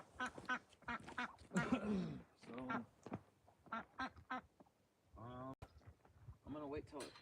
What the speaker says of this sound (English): These are nice ducks.